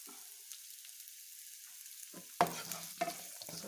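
Onions and garlic drop into hot sunflower oil with bay leaves. A quiet near-silence gives way to a sudden loud hiss, then a lively crackling sizzle with a second sharp burst, close and unvoiced.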